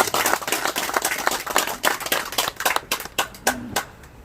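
Scattered, uneven hand claps from a small audience at the plaque unveiling and opening ceremony of the Park Chung-hee Spirit Institute, sharp individual claps thinning out toward the end.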